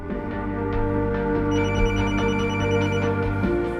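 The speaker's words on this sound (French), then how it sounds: "Martine Monteil reçoit un coup de téléphone" A telephone rings steadily for several seconds over a dense layer of dramatic background music, the ring sustained and fairly loud.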